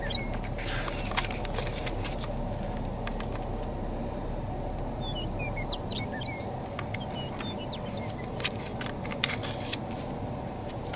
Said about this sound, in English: Singing to each other, dude. There's so many birds over here.